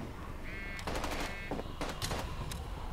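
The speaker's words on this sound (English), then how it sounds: "Three shots point blank in the head." Gunfire from a 16-player online zombie survival shooter game, a burst of three or more loud sharp shots at close range, with a brief tonal in-game sound beneath and a low background rumble.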